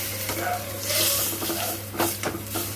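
A pangas fish tail frying in hot oil in a pan, giving a steady close sizzle with a few stirring scrapes and clinks, no talking.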